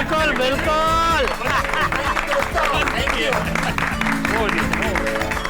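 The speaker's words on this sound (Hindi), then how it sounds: "तालियां तो बनती है" Applause from a studio audience during a Hindi sitcom scene, loud and sustained, with dense clapping and crowd noise mixed with music and voices throughout.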